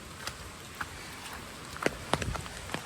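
Light monsoon rain pattering softly in Konkan, with a few scattered drops ticking close by over a quiet background.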